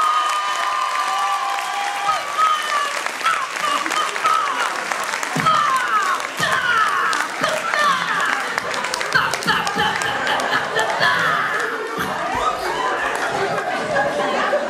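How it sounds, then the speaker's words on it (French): A comedy festival audience for young talents in Mantes-la-Jolie applauds a slam piece, with sustained, dense clapping mixed with cheering, some laughter and crowd chatter filling the hall at steady loudness throughout. "s'il vous plaît, applaudissez mon slam, s'il vous plaît"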